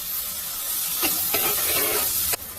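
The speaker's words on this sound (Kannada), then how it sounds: "ಈಗ ಇದಕ್ಕೆ ನಾನು 2 ಈರುಳ್ಳಿನ ಹಾಕ್ತಾ ಇದ್ದೀನಿ, ಚಿಕ್ಕ ಚಿಕ್ಕದಾಗಿ ಕಟ್ ಮಾಡಿಕೊಂಡು" Two chopped onions sizzle in hot oil in a pan for a spicy green chilli chicken, a steady loud fry with a few stirring scrapes before the sizzle drops off near the end.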